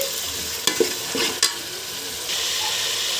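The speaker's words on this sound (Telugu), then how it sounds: "టమోటా పచ్చివాసన పోయే వరకు బాగా వేయించాలి" Tomato and tomato paste frying in a pan for a fish curry, a close sizzle with a few sharp spoon clacks and stirring scrapes, the hiss swelling louder near the end.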